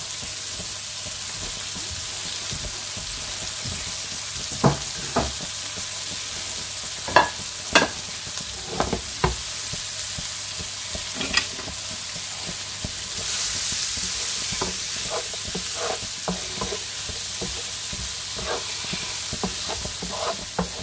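Garlic and peppers sautéing in freshly added oil, a steady close sizzle running throughout with scattered sharp pops and spatula scrapes as the pan is stirred.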